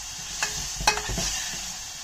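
Onions fry in hot tempering oil for sambar, a steady close sizzle broken by a few sharp clinks and scrapes of stirring.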